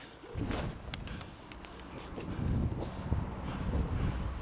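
Domestic pigeons coo in low, soft bursts at moderate distance, with wind noise rushing across the microphone and no talking.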